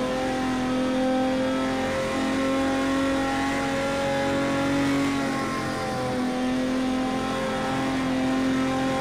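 Porsche 917 K race car engine roaring at sustained high revs in Project Cars 2 at Spa, a loud continuous mechanical drone with slight pitch shifts and no voices.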